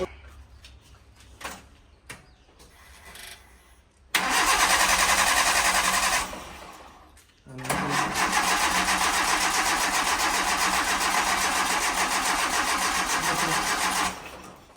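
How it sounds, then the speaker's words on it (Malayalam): A 2001 Mitsubishi Lancer with its air filter removed cranks and fires, running loudly for about two seconds, cutting out, then restarting and idling steadily and loud until near the end, after some faint handling noises. "ഫിൽറ്റർ വെക്കാണ്ടൊന്ന് സ്റ്റാർട്ട് ചെയ്ത് നോക്കാം"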